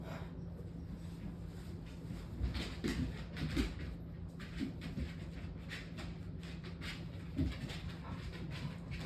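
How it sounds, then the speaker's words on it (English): Dogs stir and pant indoors, with soft, irregular breathy bursts and faint movement over a steady low hum; no one talks. "Now the dogs are stirring."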